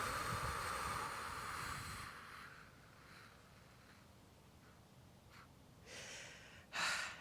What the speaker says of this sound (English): breathing in through your nose. So, and then for a count of 8, breathing out through your mouth